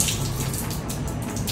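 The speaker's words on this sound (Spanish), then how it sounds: "Enseguida le paso una agüita." Tap water running over fresh anchovies being rinsed for vinegar marinating, a steady splashing gush with light irregular droplet patter, close and unbroken.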